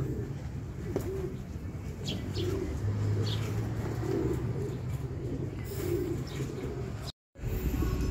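Racing pigeons arriving at a loft during a south race training session, with soft, repeated cooing and occasional chirps near at hand over a steady outdoor background hum.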